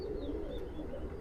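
Indian Madrasi high flyer pigeons in a loft give soft, low cooing close by over a faint hum, with a thin chirp or two above.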